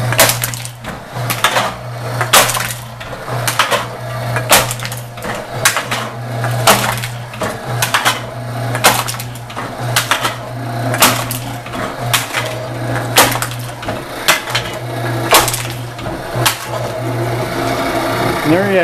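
A homemade can crusher flattens aluminum cans in a garage, a series of loud crunching snaps at a steady pace over a constant low hum, with a voice talking throughout.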